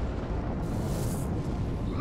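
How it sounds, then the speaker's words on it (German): Star base exploding in the space strategy game Sins of a Solar Empire, a sustained low rumbling roar with a hissing burst layered on top, steady and loud for about two seconds. "Sternbasis steht jetzt schon schief und explodiert."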